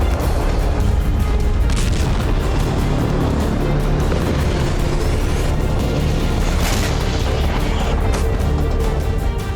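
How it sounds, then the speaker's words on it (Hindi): Harpoon anti-ship missile launch rendered as a continuous loud roaring rumble with booming low-end energy and a few sharper bursts, steady throughout with no voices. "इस वीडियो में अमेरिका की एंटी शिप मिसाइल हार्पून की लॉन्चिंग दिखाई गई थी।"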